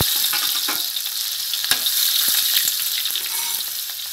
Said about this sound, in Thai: น้ำมันร้อนแล้วนะคะพริกกระเทียมลงเลยค่ะ